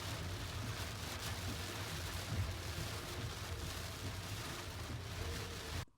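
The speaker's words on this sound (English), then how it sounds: "you can see how hard it's been raining" Heavy rain pours in Mexico City, heard from inside a moving car as a steady, dense hiss mixed with low road rumble, faint and continuous until it cuts off abruptly.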